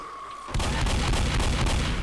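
Dense, sustained gunfire erupts halfway through a Left 4 Dead zombie fight, loud continuous shots with sharp repeated cracks following a quieter moment with a faint tone.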